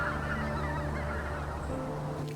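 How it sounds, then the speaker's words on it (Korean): A flock of large migratory geese honks continuously over open autumn fields in Pocheon, a dense, overlapping chorus of calls close by with no voices. "빈 들녘 큰 철새들의 차지가 됐습니다"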